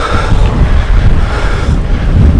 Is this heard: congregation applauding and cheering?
no